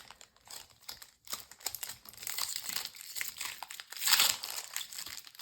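Plastic packaging on a counterfeit Pokémon card display box being torn open, with close crinkling and crumpling that comes in uneven bursts and peaks in a loud rustle near the end, no talking over it.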